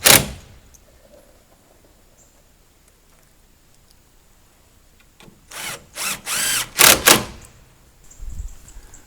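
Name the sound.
power drill pre-drilling holes for number 10 screws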